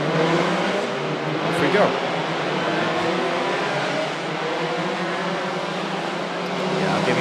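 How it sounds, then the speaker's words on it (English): Race car engines rumble and rev together at the start of a Vios Challenge race, a loud sustained drone that swells and eases throughout, with a brief spoken phrase over it. "enjoy those engine sounds"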